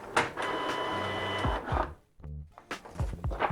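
Canon Pixma TS3150 inkjet printer running its paper roller cleaning cycle: whirring motor drive with clicks and mechanical clunks, a brief pause, then more short bursts of feed mechanism noise, close and moderately quiet.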